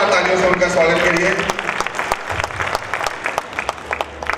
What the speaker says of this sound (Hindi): तो आप एक बार जोरदार तालियों से उनका स्वागत करिए।